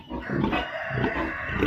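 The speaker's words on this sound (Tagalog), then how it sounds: "Baboy daw." A pig grunts and oinks repeatedly and close by on a farm, a steady run of rough low snorts filling the whole stretch with no talk over it.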